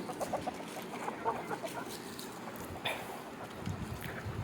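Several native country chickens cluck softly and steadily while eating, amid a faint, noisy outdoor background, their scattered calls fairly distant and low.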